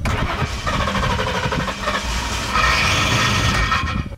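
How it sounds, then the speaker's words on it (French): A Lincoln Town Car limousine with a starter that does not fully retract, cranking loudly and continuously with a rough, rising mechanical grind. "le démarreur, lui, continue à faire des siennes puisqu'il se rétracte pas totalement après l'avoir actionné"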